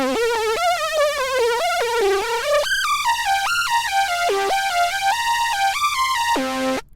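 Apple ES2 software synthesizer with its LFO pushed to a fast rate on pitch, giving a buzzy, FM-like metallic tone in place of vibrato. A loud, steady run of stepped notes plays alone, then a brief low note near the end.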